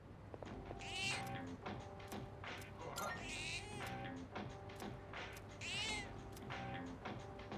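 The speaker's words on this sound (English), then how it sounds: "Cat is purring loudly. It seems happy." A cat in a video game, Persona 3 Reload, meows several times in drawn-out, wavering cries over a steady low hum and soft background music.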